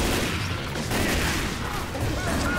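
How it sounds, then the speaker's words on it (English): Gunfire in Left 4 Dead 2: dense, continuous rapid shots overlap into a noisy, unbroken fusillade that stays loud and close throughout. "What the fuck are you shooting me for?"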